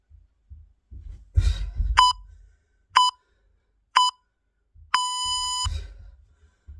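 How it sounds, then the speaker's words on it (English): A workout interval timer during a boxing fitness session gives three short electronic beeps about a second apart, then one long final beep, with thuds and shuffling movement around them. "I hope I set the timer up right today."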